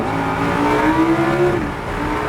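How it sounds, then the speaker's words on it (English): Car accelerating hard on the race track at New Hampshire Motor Speedway, a steady loud engine note climbing in pitch under throttle, then easing off near the end, heard close from the cabin. "Squeezing on the gas, make sure we're leaving a little room."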